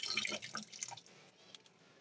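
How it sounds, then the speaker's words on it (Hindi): Sliced potatoes are rinsed in water to wash off starch, making quiet splashes and drips that fade to near silence after a second. "अब हम इनको खूब अच्छी तरह से धो लेंगे 2 से 3 बार।"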